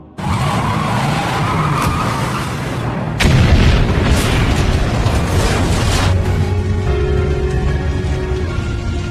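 A heavy explosive blast erupts partway through as a car crashes into a laboratory, following a noisy rush like a speeding vehicle, then a long rumbling roar with debris-like crackle continuing afterward.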